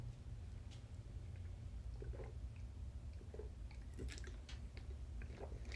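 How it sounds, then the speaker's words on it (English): Soft, close wet mouth sounds and gulps, scattered clicks and squishes of someone drinking a swig of water, with no talking over a low background hum. "I'm just going to take a second and get a good swig of water here"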